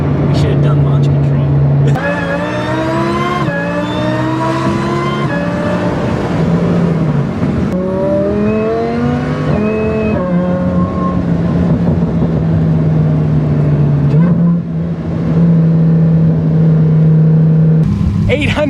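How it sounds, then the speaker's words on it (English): A supercharged 800-horsepower Lamborghini Huracan revs and accelerates through rising gear sweeps, its engine loud and close, roaring under ongoing speech from people in the car. "800 horsepower Lamborghini Huracan"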